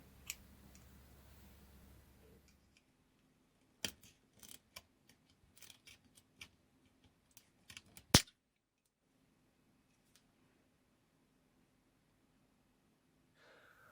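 Scissors snip through speaker-building material for a Valentine audio E-type kit, a few sharp crisp clicks scattered over several seconds after a low hum fades, close and quiet, with no talk.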